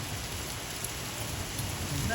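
Dense, constant pelting on a car roof with sharper individual hits, like hailstones drumming on the vehicle from inside.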